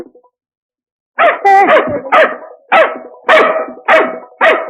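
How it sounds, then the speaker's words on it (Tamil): A dog barks loudly and close by, six sharp barks in an uneven rhythm following a brief silence, with no talking. "ஏன் உன்னை பார்த்து நாய் குலைக்குது"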